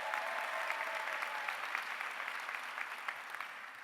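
Audience applause at a 2019 school district management team meeting, a dense, steady wash of many hands clapping that holds evenly for the whole stretch, moderately loud and unbroken by any voice.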